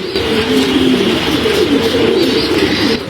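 Racing pigeons coo continuously in a loft, a dense, loud layer of overlapping low throaty calls from several birds close by, steady throughout with no talking.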